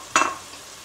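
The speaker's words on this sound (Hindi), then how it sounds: "मसाला बहुत अच्छी तरह से भून गया है। अब हम इसमें ये कीमा डाल देंगे।" Minced meat drops into masala frying in a pan, giving one short burst of sizzle and stirring that quickly fades to a low background hiss.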